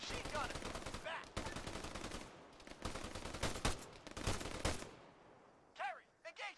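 Bursts of machine gun fire in the military shooter Arma 3, long rapid rattling volleys with short pauses, loud and close, ending in a few separate shots.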